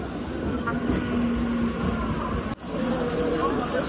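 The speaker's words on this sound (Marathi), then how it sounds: "आली आपली डोंबिवली लोकल" A Mumbai suburban local train bound for Dombivli pulls into a crowded station, its steady rumble and rail noise filling the scene with a brief dip partway through, while a crowd murmurs around it.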